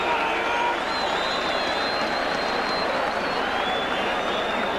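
A big Halifax rugby league crowd roars after a try in a 1987 Challenge Cup tie, with loud, dense cheering and applause running without a break, and a commentator talking over it.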